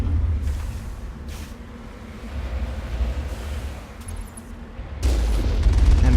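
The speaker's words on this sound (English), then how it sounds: "We definitely shouldn't be just wildly firing rockets out into space like this" Rockets fired into space in the sci-fi game Mass Effect near Earth, heard as a sustained low rumbling roar with booming bursts, swelling louder toward the end, no talk.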